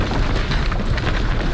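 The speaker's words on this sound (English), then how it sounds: "I figured this should be a good scene with all the explosions going on" Video game explosions in a battle scene heard through a wireless gaming headset, a loud continuous rumbling boom with dense low-end roar and no distinct separate blasts.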